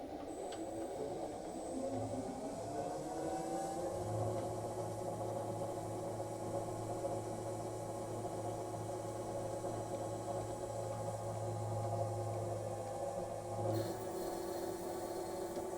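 A ProtoTRAK RLX CNC lathe running, a steady mechanical whir and hum with tones that shift slowly as the spindle and feed change, close and continuous.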